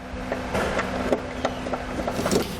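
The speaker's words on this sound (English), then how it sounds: "We can grab our Phillips screwdriver and remove that screw." Phillips screwdriver backing a screw out of a vehicle cargo hook, a series of small sharp clicks and ratcheting ticks at close range, irregular but steady, with no voices.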